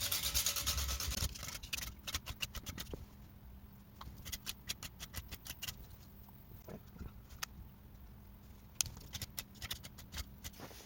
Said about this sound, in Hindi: तो अब हमें ना इसको थोड़ा सा रेगमाल पे सैंड पेपर पे ऐसे घिसना पड़ेगा।